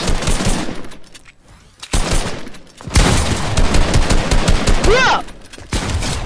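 Minigun fire in Fortnite, a sustained loud mechanical rattle of rapid shots that fills most of the clip, broken by a short lull, with a player's voice shouting over it.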